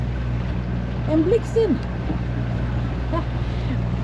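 Steady low drone of a boat motor with wind buffeting the microphone; a person speaks briefly over it.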